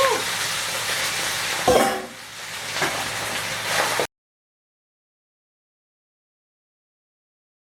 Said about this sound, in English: I'm gonna loosen it up and go ahead and get it into this oil so we can start frying